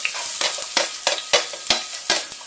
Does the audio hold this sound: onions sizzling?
yes